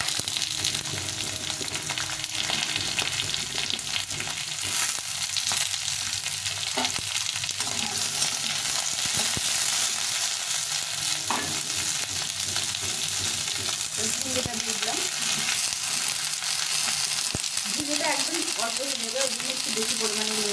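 Vegetables with green chillies frying in a pan, a steady loud sizzle that runs throughout with occasional stirring scrapes, and faint speech underneath.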